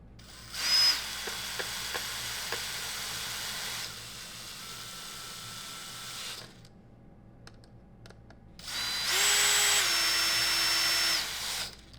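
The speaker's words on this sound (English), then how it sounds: "I'm going to use some power tools just to speed things along" A power tool whirs in two sustained bursts, driving screws up close while assembling a mini machine, with a quieter pause of light clicks between them.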